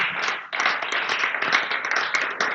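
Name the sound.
congregation applause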